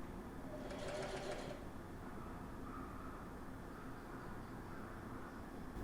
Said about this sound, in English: To sew the hems, start on the main shirt's hem seam, back tack